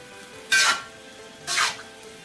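Broccoli sizzles as it is stirred in a hot pan for lo mein, two short bursts of frying hiss rising and fading about a second apart over a quiet background.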